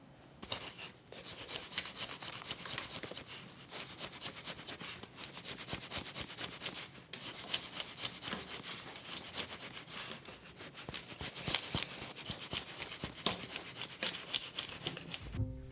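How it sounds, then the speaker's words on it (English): Old paint being scraped off a structural brick masonry wall with a hand scraper, a continuous gritty rasping of rapid, irregular strokes, close up and fairly quiet, with no talk. "I'm going to start my day by scraping paint off this wall."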